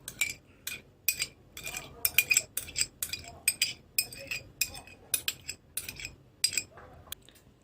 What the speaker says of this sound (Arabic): وهبدأ أضيف الكاتشب للمايونيز